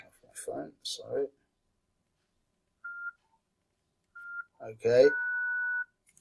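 A mobile phone beeps with short electronic tones, two brief chirps followed by a longer steady tone, heard close, with a person speaking briefly before and as it sounds.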